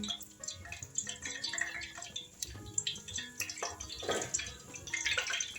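Mustard seeds hitting hot oil in a pan for a mustard-style masala fish curry, giving a busy crackle of small pops and sputters that runs steadily for several seconds.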